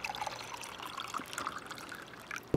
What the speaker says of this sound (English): So you can pour, this is filtered water here.